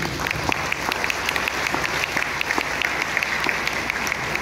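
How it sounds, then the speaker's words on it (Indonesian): Audience applause at a youth seminar for a school festival, a steady dense clapping from a crowd that holds evenly from start to finish with no talking. "marilah kita tepuk tangan yang meriah untuk diri kita"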